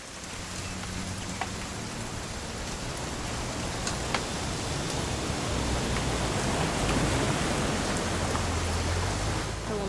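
Steady rain in the game What Remains of Edith Finch, a continuous dense hiss of falling drops that holds even and fairly loud for the whole stretch, with no voices over it.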